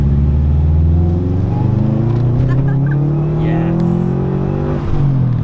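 A 300 hp 2013 Subaru WRX accelerates hard from inside the cabin, its engine note rising steadily in a loud sustained pull before easing off, with a voice briefly over it.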